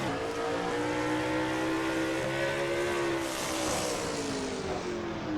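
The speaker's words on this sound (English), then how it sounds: "riding on board with Dylan Young in truck number 2" A race truck, number 2, roars steadily around the Riverside Raceway track in an onboard view, its engine loud and continuous with a slowly rising and falling pitch as it works through the turns.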